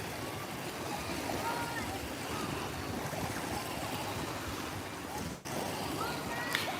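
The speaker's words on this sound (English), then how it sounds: "Waves are starting to really get a little higher." Ocean waves washing onto a beach, a loud, continuous broadband rush of surf with wind that fills the whole stretch.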